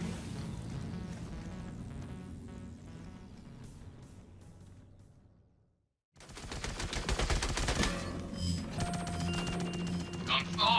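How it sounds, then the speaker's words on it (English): Gunfire inside a Carrack ship during a boarding fight in Star Citizen: rapid shots over game sounds, then a brief silence before a louder, dense burst of fire and clatter. "Oh, shots."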